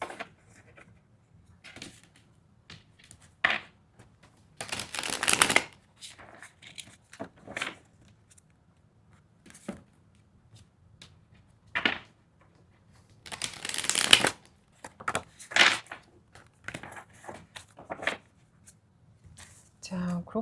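Oracle cards shuffled by hand during a tarot reading, giving soft riffling bursts and taps that come in irregular clusters, with quieter gaps between them and a faint low hum underneath.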